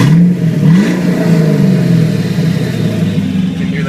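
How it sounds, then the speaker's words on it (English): Twin-turbo Pontiac GTO with a boosted LS3 V8 and its exhaust cutouts open, revving loud and close in a deep rumbling roar that rises and falls over a few seconds. "You can hear the turbos and everything"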